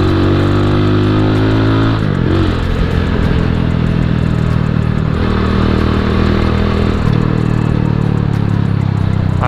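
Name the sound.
Rusi Classic 250 motorcycle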